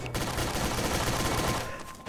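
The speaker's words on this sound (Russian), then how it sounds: "Вот я нажимаю кнопку выстрела." Rapid bursts of gunfire from the shoot button in Garry's Mod, a loud, dense fusillade of shots firing continuously and close for about two seconds.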